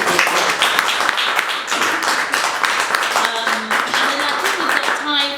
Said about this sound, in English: So can we just have a round of applause very quickly?